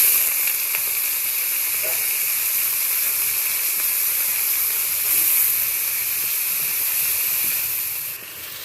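Chopped potato, onion and green chili hit hot oil in a pan, giving a steady loud hiss and sizzle that holds evenly throughout and eases off right at the end, with no talking.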